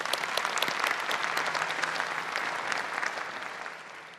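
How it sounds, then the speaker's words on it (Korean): Sustained applause from a large audience at the KF-21 Boramae fighter jet rollout ceremony at the KAI Sacheon plant, a steady wash of many hands clapping that holds throughout and fades slightly at the end. "큰 박수 부탁드리겠습니다"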